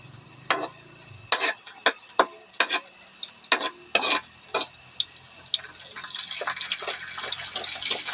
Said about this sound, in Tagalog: ilagay na natin yung corn beef